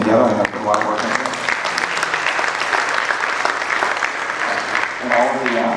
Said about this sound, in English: we give a round of applause here for Jim for putting this thing together